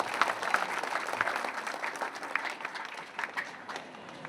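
Audience applause welcoming performers at the Jamul Srijan Diwas cultural event in Chhattisgarh, a steady patter of many hands clapping from a crowd, moderately distant and sustained throughout.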